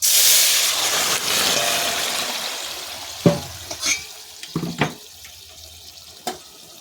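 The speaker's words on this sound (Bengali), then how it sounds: "ফোড়নটা হয়ে গেছে, এবার আমি এখানে তরকারিটা ঢেলে দেব।" Vegetables (bottle gourd) tipped into hot oil tempered with radhuni for a shol fish curry, a loud rushing sizzle that fades, then a few sharp spoon clacks against the pan.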